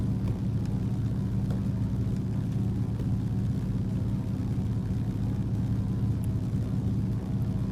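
Steady, loud droning hum of a de Havilland DHC-2 Beaver's engine during its takeoff run, unbroken and even from start to finish.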